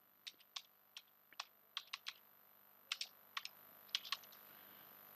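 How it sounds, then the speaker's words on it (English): A computer keyboard being tapped to enter an apt-get command on Debian Linux: about fifteen sharp, close keystrokes in uneven bursts and pauses against a faint steady hiss. "Type the apt-get install command like this, after that press enter."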